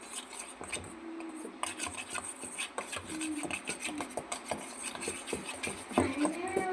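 A spoon rubs and scrapes through maida flour batter for onion rings in a bowl, giving a steady gritty stirring with soft taps, fairly quiet and close, with faint voice in places.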